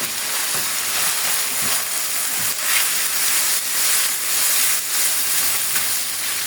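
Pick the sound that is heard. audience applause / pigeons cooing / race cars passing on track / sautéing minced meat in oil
sautéing minced meat in oil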